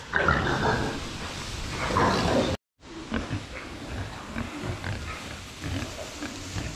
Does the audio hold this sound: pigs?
yes